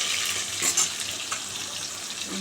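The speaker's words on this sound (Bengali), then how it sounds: "ভাজা বসিয়ে দিয়েছি" Something fries in a pan with a continuous close sizzle and faint stirring scrapes, alone without speech.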